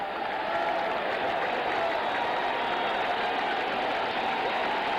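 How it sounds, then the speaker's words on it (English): A baseball stadium crowd at a Giants–Mets game applauds steadily, a broad sustained wash of clapping and cheering that holds evenly throughout without a break. "The applause here is for that score."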